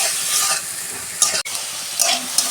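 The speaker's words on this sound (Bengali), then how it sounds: "আমি 2 মিনিট নেড়ে চেড়ে শাকটা ভেজে নেব।" Potato greens and drumstick leaves sizzle loudly in a hot pan while being stirred, with a few sharp scrapes and clinks of the spatula against the metal. No one speaks.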